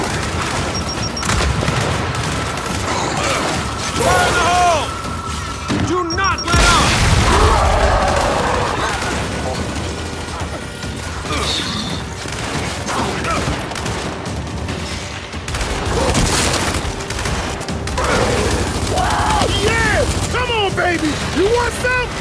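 Gears 5 combat on Xbox One: a frag grenade blast and bursts of gunfire, with booms and rattling fire crowding a dense, loud battle mix, while voices shout over it throughout.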